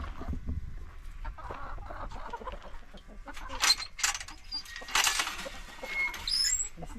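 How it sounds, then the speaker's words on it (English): Backyard chickens being let out into their big run cluck in short bursts, a few hens close by with rustling around them and no talking. "we are going to let some chickens out."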